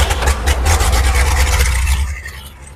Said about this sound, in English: Okay, it's running.